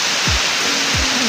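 Aruyan Falls in Sablayan, Occidental Mindoro, pouring as a dense, steady broadband rush of falling water, close and loud, with a couple of low thumps underneath.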